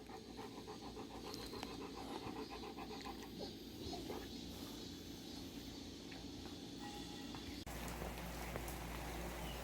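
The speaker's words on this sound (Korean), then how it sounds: "바깥에 비가 갑자기 쏟아지기 시작해서" A sudden rain shower pours outside as a steady broadband hiss, with a dog panting close by and faint clatters indoors. The rain grows heavier toward the end.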